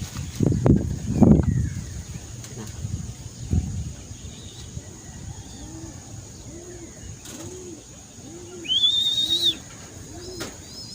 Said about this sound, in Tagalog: Nag-ikot pa mga kalapatids.